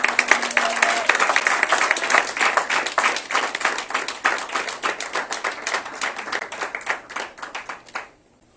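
A church congregation applauding during a Sunday Easter service: steady, dense clapping from many hands that fills the space, then tapers off and stops near the end.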